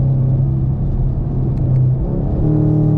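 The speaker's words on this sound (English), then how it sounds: "gonna downshift right here for y'all" Chevrolet Camaro SS V8 engine rumbling steadily with a rise in revs on a paddle-shift downshift, heard loud and close from inside the car with no talk.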